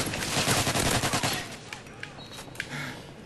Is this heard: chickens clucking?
no